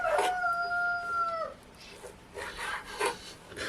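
A rooster crows once loudly near the start with a sustained call, followed by noisy background sounds and scraping in the following seconds.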